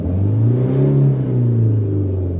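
A Fiat Ducato van with a low-power fault revs its engine up, a loud, steady, close-up rumble that rises and falls slightly in pitch over a couple of seconds.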